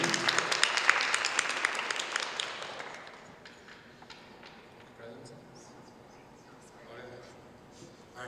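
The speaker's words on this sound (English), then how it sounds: "Round of applause for our candidates" Audience at a student government election debate applauding candidates, a burst of clapping that fades out after about three seconds, leaving quiet room noise.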